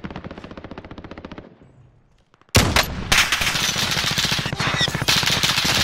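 Video game gunfire rattles in rapid automatic bursts, loud and close. It stops briefly into near silence, then a second, denser stretch of sustained firing follows.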